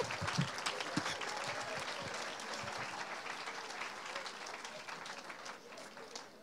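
A church congregation applauds the Lord during a sermon, with steady, dense clapping from a crowd that fills the room and fades slightly toward the end.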